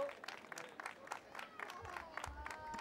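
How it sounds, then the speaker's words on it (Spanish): Sparse, crisp clapping from a small group at a gymkhana during the 2017 Valladolid fiestas, irregular hand claps rising and falling, fairly faint and thin. "Un aplauso para él."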